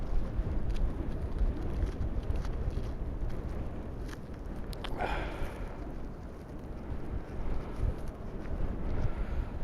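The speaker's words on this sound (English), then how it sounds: "It's really, really, really windy. I hope the mic muff is up to the job." Strong outdoor wind buffets a muffed microphone on a field during metal detecting, a continuous low, loud rumble with gusting surges throughout and no talk.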